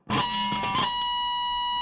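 Distorted electric guitar picks a few quick notes, then a bright squealing pinch harmonic rings out and sustains.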